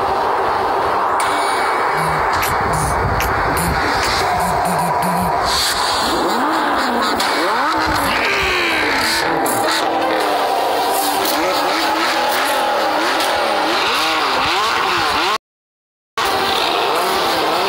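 Drag race cars roar and rev loudly nearby, one with a naturally aspirated V10 screaming toward 9,000 RPM and snapping through dual-clutch shifts, with dense engine noise and tire squeal filling the scene before a brief cut to silence.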